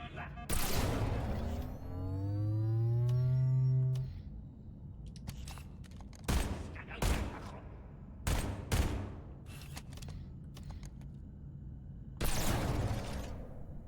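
SMG fire in the video game Halo: Combat Evolved: a warbling, rising electronic tone gives way to several separate loud bursts of gunfire crackling through the level, with short gaps between them.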